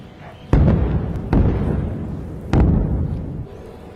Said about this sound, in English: Large explosions have been heard as Israel's Iron Dome attempts to intercept Iran's retaliatory strikes.